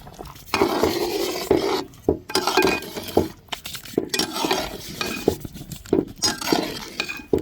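Mushroom and cauliflower gravy with spring onion being stirred in a hot pan: repeated close scraping and clinking of a spoon against the pan with a soft sizzle underneath, in uneven strokes and no talking.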